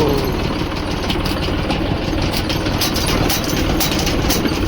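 A tractor engine runs steadily close by while driving to a farm field, a low rumbling throb with a rapid, even knock that continues unbroken throughout.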